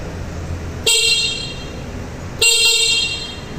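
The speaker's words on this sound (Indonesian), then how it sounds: "Itu bunyi klaksonnya." Two loud, sharp honks from a Smoot Tempur electric motorbike horn, each a short bright blast with a ringing tail, separated by a brief pause in a quiet room.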